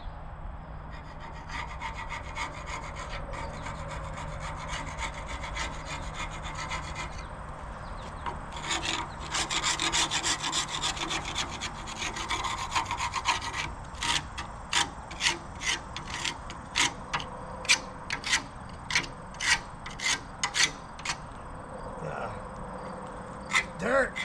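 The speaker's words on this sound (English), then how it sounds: "I've got to get a flat tip screwdriver or something to grind off this stuff." A flat-tip screwdriver scrapes caked dirt off an old mill wood stove, with steady rasping strokes that grow into a fast, rhythmic series of short scrapes. Voices are faintly present.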